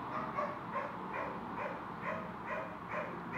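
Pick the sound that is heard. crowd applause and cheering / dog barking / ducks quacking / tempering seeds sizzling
dog barking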